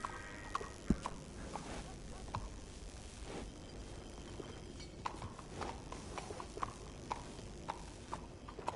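Horse hooves clip-clopping in a video game, a steady series of light, evenly spaced hoof knocks at moderate volume over soft game ambience with occasional brief sharper clicks.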